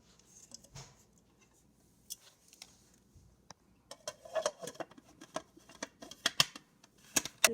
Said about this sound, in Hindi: इन सबको चॉप करेंगे चॉपर में